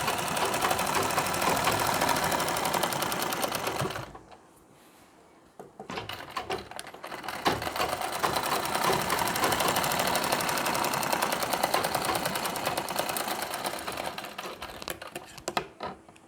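A sewing machine stitches a Nauvari saree in long, rapid, steady runs, stopping briefly for a few seconds partway through before starting again, the rattling hum loud and close throughout.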